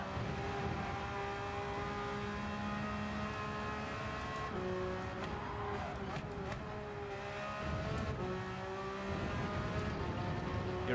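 Porsche race car engine in Gran Turismo 7, a continuous loud engine whine that climbs and drops with gear changes, heard close and steady throughout.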